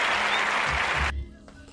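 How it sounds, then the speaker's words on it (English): A short burst of applause from a small group rises loudly, then cuts off abruptly into quiet room noise. "y'all gotta get a little round of applause for my best friend"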